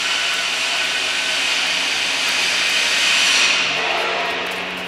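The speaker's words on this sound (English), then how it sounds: "now we have our vacuum pump connected. We wanna leave it running like for 20, 30 minutes." A vacuum pump hooked to the A/C gauges of a Chevy Traverse for an R134a recharge runs with a loud, steady motor whine, unbroken for the whole stretch.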